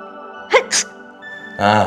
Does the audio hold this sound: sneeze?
yes